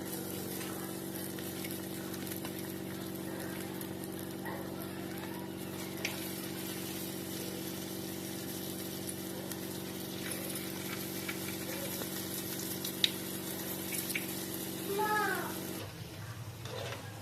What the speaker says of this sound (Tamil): இது எண்ணெயில் போட்டு பொரிச்சு அள்ளிக்கலாம்.